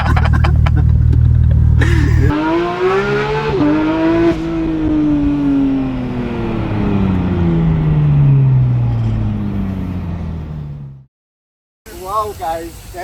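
A Porsche GT3 engine roars close up while driving, revving and gliding down in pitch as it slows, then cuts to silence before another short engine burst.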